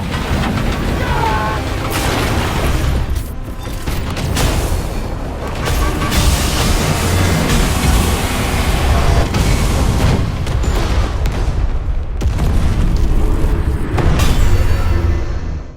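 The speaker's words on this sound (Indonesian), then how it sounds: "Ledakan pertama dari kor mesin, lalu ledakan kedua karena ternyata mesin nyimpen puluhan bom internal buat serangan utama." A fireball of repeated explosions rips through an alien war machine in a film battle scene, with heavy booming blasts rolling one after another, loud and continuous, under dense rumbling debris.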